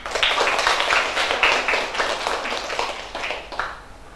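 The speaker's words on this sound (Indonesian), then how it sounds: "Iya, tepuk tangan." A class of students claps hands together in a quick, fairly even burst of many overlapping claps, fading slightly toward the end.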